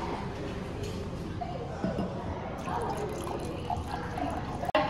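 Wine pours steadily into a tasting glass, a soft continuous trickle with gentle gurgles, ending in a brief clink.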